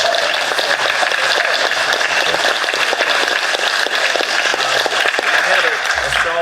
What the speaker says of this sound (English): I want to give a good clap on that